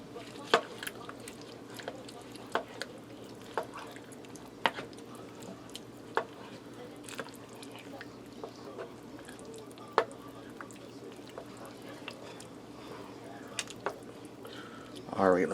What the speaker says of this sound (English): I'm going to give this a stir and see if I have enough chili powder in here.